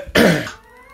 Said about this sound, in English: Just coughed and cleared my throat